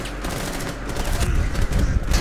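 Sustained video-game gunfire in a tactical shooter match, dense overlapping bursts and rapid automatic fire rolling continuously and loudly throughout, with no voices over it.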